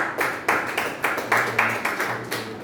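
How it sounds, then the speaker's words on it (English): A single person claps their hands alone, a steady series of about ten sharp, close claps at an uneven, slightly irregular rhythm during a talk on gratitude. "I am just clapping for myself."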